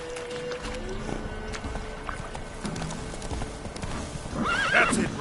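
Roach, the horse in The Witcher 3, gallops with rapid rhythmic hoofbeats and then lets out a loud whinny near the end, close and clear over a faint ambient background.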